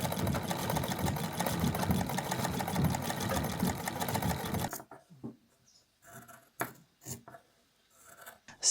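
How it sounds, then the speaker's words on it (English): A sewing machine stitches around the perimeter of a quilt, running in a fast steady whir for about five seconds, then stopping. Quieter fabric rustles and handling noises follow. "I'm going to run a line of stitching all around the perimeter"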